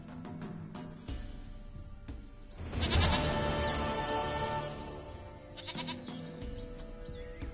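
Goat bleats in The Witcher 3: several wavering, nasal bleats, one loud drawn-out cry near the middle, heard close against quiet game ambience with no voices.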